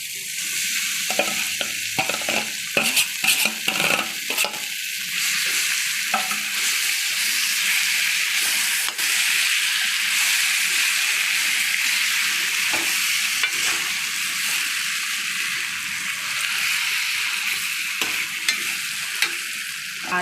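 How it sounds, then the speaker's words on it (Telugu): Grated raw mango sizzling in a frying pan as a spoon stirs it, with a steady bright hiss and rapid scraping clicks through the first few seconds, then a continuous close sizzle with occasional taps. "మరి ఇప్పుడు మామిడికాయ తురుము వేసేస్తున్నాను"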